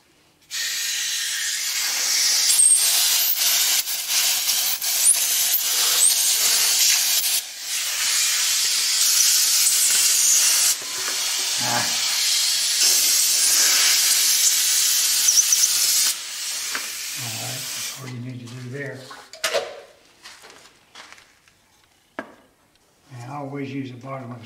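Compressed air blasts into the holes of a walnut scrap bowl: a loud, steady, close hiss with brief breaks that runs for about eighteen seconds, then cuts off, leaving a few quieter knocks and handling sounds.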